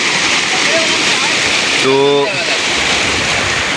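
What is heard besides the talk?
floodwater flowing over river and fields after overnight rain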